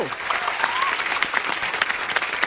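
A television comedy show studio audience applauds steadily throughout, dense clapping with a few whistles rising above it, loud and close.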